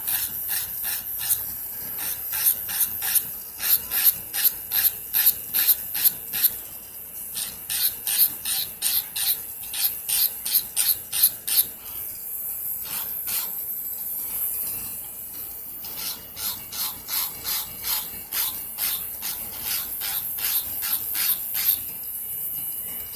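An electric nail drill with sanding bits sands artificial nails in rapid rasping strokes, close and fairly loud, repeating in uneven bursts with brief pauses between passes.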